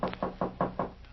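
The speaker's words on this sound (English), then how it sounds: "And right now there's a knock on the back door" Five evenly spaced knocks on a back door as a radio drama sound effect, crisp and fairly close, rapping in a quick steady rhythm with no voices.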